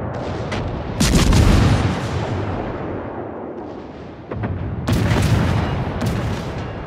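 Heavy naval gun salvos boom in World of Warships, a loud blast followed by a long rumbling roll, then another pair of deep booming volleys a few seconds later.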